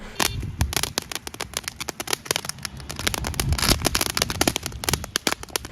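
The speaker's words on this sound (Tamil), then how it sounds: "துப்பாக்கியிலேருந்து தோட்டா எப்படி போகும் அந்த மாதிரி சட சட சட சடன்னு வெடிக்கும்" A Top Gun firecracker crackles in a rapid, dense string of sharp pops resembling automatic gunfire, continuous and loud throughout, with no voices.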